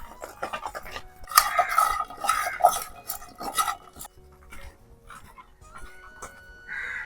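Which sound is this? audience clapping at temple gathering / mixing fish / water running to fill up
mixing fish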